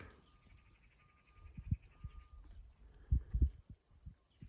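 Quiet outdoor scene with a few soft sheep bleats and low thumps, a faint high tone running through the first half.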